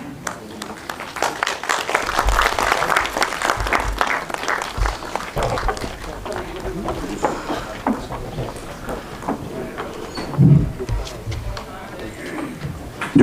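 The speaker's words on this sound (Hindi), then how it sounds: "जोरदार तालियों से आप सभी लोग इनका स्वागत करें, उत्साहवर्धन करें।" An audience at a book launch in Dehradun breaks into loud clapping to welcome guests. The applause is dense at first, then thins and tapers off, with voices talking underneath.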